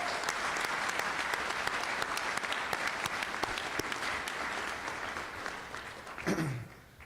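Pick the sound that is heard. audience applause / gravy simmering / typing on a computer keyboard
audience applause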